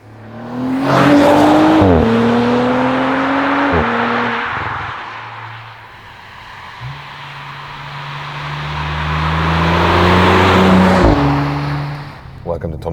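Audi RS5 Coupé in its sportiest mode accelerating onto a German motorway, loud engine revving through rising pitches with gear-change dips, then a steady cruising roar and another surge, all close.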